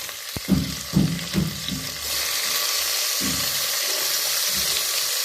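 Tomatoes go into frying ginger-garlic paste for tomato bath. A few thuds and clatters come first, then a dense, even sizzle settles in close by, with no voice.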